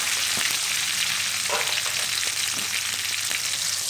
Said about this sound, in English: now I'm adding in tomato pieces. Just cook until the tomato becomes soft